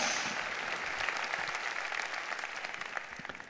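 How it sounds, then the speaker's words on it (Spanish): Congregation at a church service applauds steadily, a faint, dense patter of many hands clapping that holds evenly for several seconds before thinning slightly. "Démosle otro aplauso al Señor y digámosle gracias."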